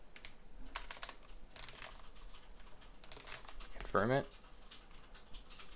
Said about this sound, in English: if I were to type some city like Moreno Valley, some email, or type in some password